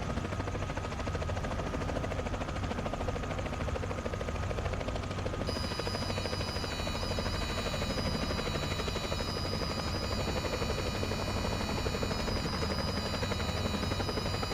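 A helicopter in a video game flies with a continuous rotor drone and steady mechanical whine, loud and unbroken throughout, with no talking.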